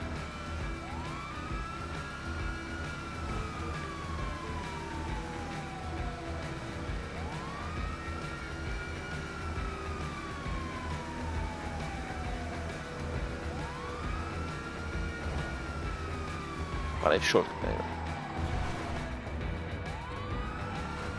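Police car siren in a driving video game sounds in slow, repeated rising-then-falling sweeps over a steady engine drone, with a brief sharp burst near the end and a few muffled spoken words.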